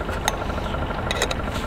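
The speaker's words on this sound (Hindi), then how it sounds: "ये पीछे ट्रैक्टर की आवाज़ आ रही है यार" A steady low tractor engine rumble drones in the background at a lakeside camp, with a few faint clicks over it.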